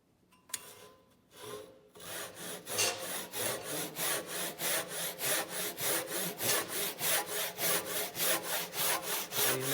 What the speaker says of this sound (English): I'm going to start sawing down this side of the wood